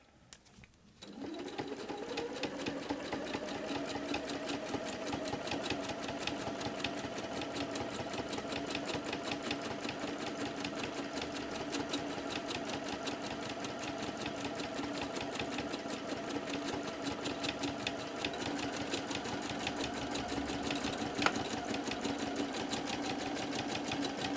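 A sewing machine quilts the gold border of an autumn-inspired art quilt, spinning up after a moment of quiet and then running steadily and continuously at close range.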